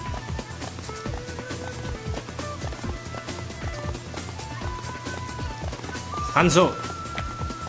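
Galloping horse hooves in the video game Samurai Warriors 2, a quick steady rhythm of clops running under game music, battle noise and voices, with a brief louder burst near the end.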